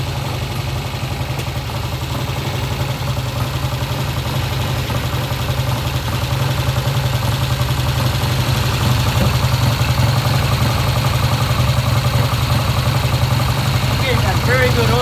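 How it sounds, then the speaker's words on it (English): A vintage British motorcycle engine idles steadily with a low, even thrum, loud and close, running throughout without a break. "It's idling right now."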